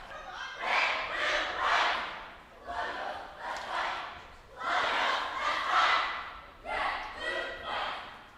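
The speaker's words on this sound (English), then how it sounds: "And the crowd's loving them." Crowd cheering and yelling at a competitive cheerleading semifinal, rising in loud waves of shouts with brief dips between surges, fairly close and energetic.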